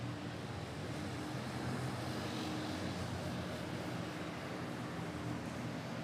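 Continuous broadband jet roar from an airliner on approach to land at Manila Airport in crosswinds, fairly distant and even in level, without talk.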